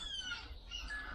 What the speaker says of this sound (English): Seagull's paying us a visit